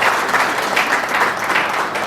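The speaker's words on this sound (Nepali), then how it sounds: "उहाँलाई पनि हामी ताली बजाएर धन्यवाद दिन्छौँ" Steady applause from a crowd, dense and continuous clapping that holds at an even level throughout.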